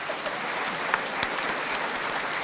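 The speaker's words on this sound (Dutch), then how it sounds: "Fantastisch, applaus nog voor Joopie." An audience at a themed afternoon gathering claps steadily, a soft, distant-sounding patter of many hands with a few sharper individual claps.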